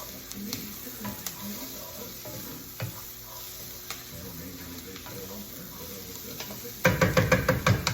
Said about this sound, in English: So we got our onions, garlic, leeks, ghee, all sauteing for about 4 or 5 minutes.